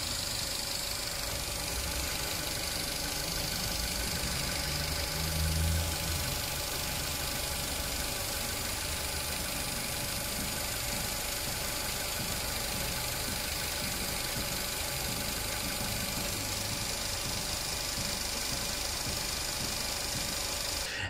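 A Mitsubishi engine idles with a split breather pipe running from the rocker cover to the intake manifold, giving a steady close-up hum under a constant airy hiss that never changes. No one speaks.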